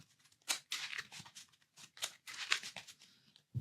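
Playing cards from a Star Wars Destiny tabletop game being shuffled back into the deck, with a run of quick papery riffles and snaps in short bursts, fairly close and alone.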